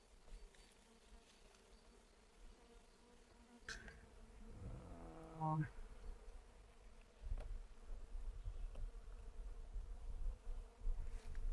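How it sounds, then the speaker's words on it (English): Stingless bees buzz steadily around an opened brood box at a meliponary, a faint, close swarm drone with a few louder passes of single bees near the ear. "the bees are not very happy that we opened them their brood box, but again, they're stingless"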